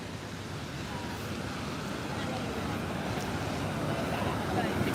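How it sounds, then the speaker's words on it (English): Waterfall at Ohiopyle pouring over ledges on the Yak River, a steady, loud broadband rush of falling water that holds constant throughout with no break. "This is kind of an observation area where the falls go down over the Yak River"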